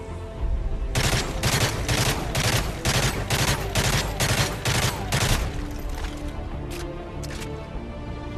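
An M16A4 three-round burst rifle fires in a video game in a rapid series of loud, evenly spaced bursts, followed by a few scattered shots as the firing tapers off.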